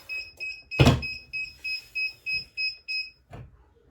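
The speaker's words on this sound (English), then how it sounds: "My timer is going off." A timer alarm beeps in a steady repeating pattern of short double tones, with a loud thump near the start and a soft knock later.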